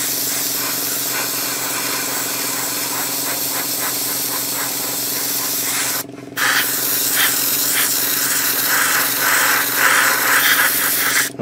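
An airbrush sprays grey paint onto a 1/35 Takom British Chieftain Mk 10 model tank in a continuous close hiss over a low compressor hum, cutting out briefly and then resuming with pulsing bursts.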